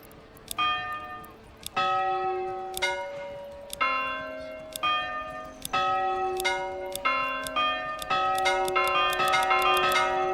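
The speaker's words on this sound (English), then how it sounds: "And you can change the bell sound." Church bells ring in the Manor Lords game: about eight separate strikes, each with a bright metallic attack and a long sustained ringing tone, overlapping and coming faster toward the end, with no one talking.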